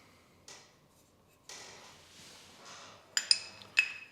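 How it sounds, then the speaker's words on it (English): New brake pads going into a Honda NC750X motorcycle brake caliper make a few soft scrapes in a quiet room, then sharp metallic clinks and ticks near the end. "now we can insert those new brake pads"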